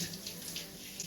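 Cold water runs steadily from a shower onto hair, a constant soft hiss with faint splashing throughout.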